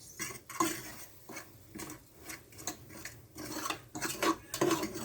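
Butter and flour roux for a white sauce being stirred in a pot, with irregular scraping and clinks of a utensil against the metal, close and moderately quiet, no talking.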